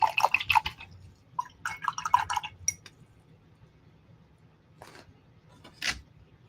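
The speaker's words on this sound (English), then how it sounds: "Let me wash my brush." Paintbrush rinsed in a water container after painting clay pots, with bursts of light clinking and splashing swishes, then a pause and a couple of faint taps and swirls.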